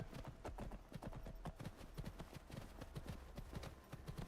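A demon horse gallops in Skyrim, its hooves pounding in a fast, steady clip-clop rhythm that stays close and continuous under a low background hum.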